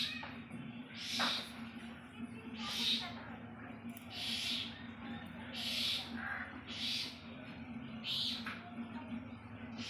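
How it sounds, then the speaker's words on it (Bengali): A bird calls repeatedly near a house cat, sending out about six short, evenly spaced cries over a faint background with soft voices now and then. "এই তো পাখি আওয়াজ করছে,"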